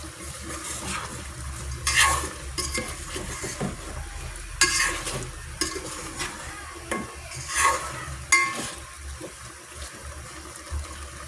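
Ingredients sautéing in a pan for a Filipino dish ahead of sinigang, with a soft, steady sizzle under repeated scraping and stirring strokes and occasional louder clatters, close by and with no talk.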